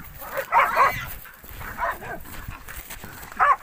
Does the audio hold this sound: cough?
no